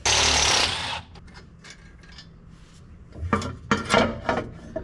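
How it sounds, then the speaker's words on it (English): A part from the front differential cover of a Ram 2500 pickup drops into a metal drain pan, giving a short series of clanking, rattling metal hits after a loud rushing noise fades to quiet. "Oh no! I dropped it in the drain pan."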